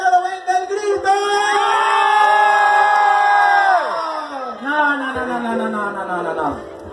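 A crowd at a neighborhood posada party in Lerdo lets out a loud, sustained group shout and cheer that swells and holds for a couple of seconds. Scattered whoops and voices trail off after it.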